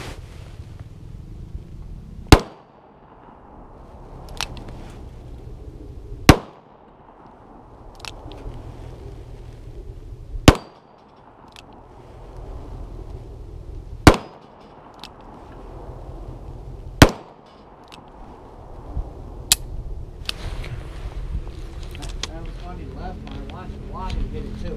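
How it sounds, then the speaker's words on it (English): Six sharp, loud shots from a Smith & Wesson Governor revolver firing .410 triple aught buckshot at steel targets outdoors, spaced a few seconds apart, with quiet talk and background rumble between them. "This is the 410 triple aught buck. So shooting at steel is probably silly."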